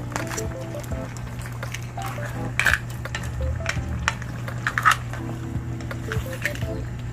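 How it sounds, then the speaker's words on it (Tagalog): Ginataang gulay with coconut milk and shrimp stirred in a pan: close, wet squishing and metal spoon clinks against the pan repeat steadily over a low steady hum, with no talk. "Mix lang po nating maigi."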